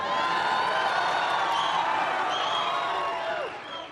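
Energetic political rally crowd in a big venue cheers and whoops loudly, a dense sustained roar with a few rising shouts, easing off slightly at the very end.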